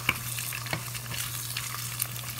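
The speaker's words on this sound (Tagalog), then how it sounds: "Lutuin muna natin yung spam. Then, nagluluto na ako ng itlog." Spam and eggs frying in a pan, a faint continuous sizzle with a few light clicks and taps of a utensil, quiet and close, no speech.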